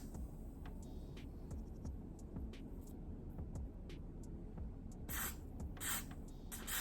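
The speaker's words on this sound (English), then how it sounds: "I'm just going to spray like the smallest bit of the Got2b spray" Got2b hairspray is misted onto a wig during a rose-gold pink dye job: a faint low hum, then short breathy hissing bursts of spray toward the end, quiet and close.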